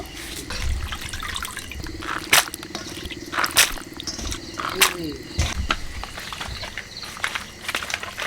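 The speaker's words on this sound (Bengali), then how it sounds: "মাংস ভালো করে ধুয়ে নেবো" Titir bird meat, red and fatty like goat leg pieces, being rinsed in water for a curry; splashing and sloshing bursts recur throughout alongside a steady background hum, with a few faint voices.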